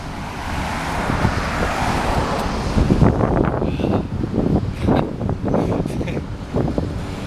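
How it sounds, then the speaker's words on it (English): Strong gusty wind blows outdoors as fog rolls in, a broad rushing roar buffeting the microphone, with a faint low rumble underneath and no clear speech. "here comes the fog and the wind"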